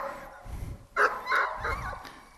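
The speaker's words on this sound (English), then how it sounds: "this is how the dog tells the handler that the dog has found someone" A search and rescue dog barks to alert its handler outdoors, giving a few sharp, fairly close barks with brief whiny yips between them, clear and alone.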